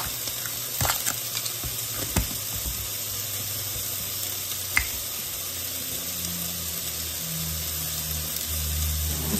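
Ground beef sizzling in a pan while stuffed shells with homemade marinara are being made, a steady faint frying hiss with a few soft clicks and knocks, no voices.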